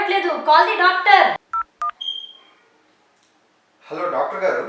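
Touch-tone telephone keypad beeps as a number is dialed to call a doctor, two short tones between bursts of lively talk, followed by a brief ringing tone; voices speak before and after.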